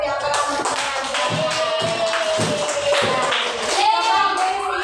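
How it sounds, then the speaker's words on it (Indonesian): A classroom group, apparently children, claps for two students, Dafa and Lutfi, after an Islamic studies lesson; scattered, uneven hand claps run throughout, mixed with children's voices and chatter. "sekali lagi tepuk tangan buat Dafa dan Lutfi yang telah mempelajari"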